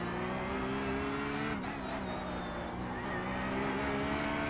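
A Porsche 911 GT3R race car engine in iRacing at Imola howls loud and close as it accelerates, with a brief dip in pitch around a gear change before the strained revving climbs again.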